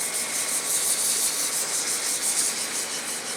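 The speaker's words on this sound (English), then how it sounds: "I'm going to go right back to the 220 grit. I'm going to wet it back down again. This helps raise the grain, makes it easier to sand." Wet sanding of wood with 220 grit sandpaper on a hollow turned piece, giving a steady, continuous soft rubbing hiss at close range with no talk.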